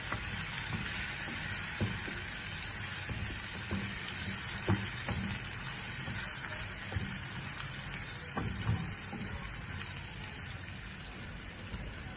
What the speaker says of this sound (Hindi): अब मैं इसमें 2 टेबलस्पून अदरक लहसुन का पेस्ट शामिल कर रहा हूँ। इसको मैं इतना भूनूंगा कि अदरक लहसुन का जो कच्चापन है वो दूर हो जाए।